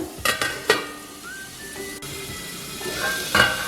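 Pumpkin pieces for a chutney sizzle steadily in a pan. A few sharp metallic clinks and scrapes come from stirring with a utensil. The sound is close and fairly loud, with no talking.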